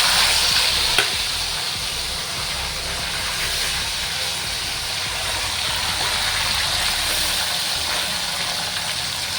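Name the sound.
fish frying in oil in a wok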